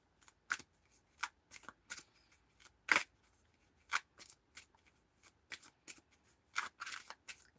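Tarot cards being shuffled by hand in a quiet room, a series of separate crisp riffling and snapping bursts spaced irregularly, close and fairly soft, with no talking.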